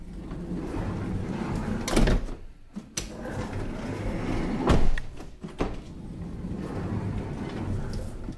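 The sliding side door of a Toyota Sienna minivan, its power slide door faulty, is worked by hand, with rolling slides and thuds as it opens and shuts, two heavier closing bangs standing out over a steady background hum.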